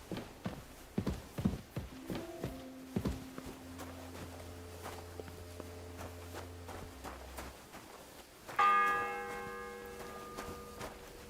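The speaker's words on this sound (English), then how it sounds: "The sixth bell. Half the time is up." A church bell tolls in the medieval world of Kingdom Come Deliverance II, several ringing strikes late in the scene after hoof clip-clops and footsteps, with other game ambience in the background.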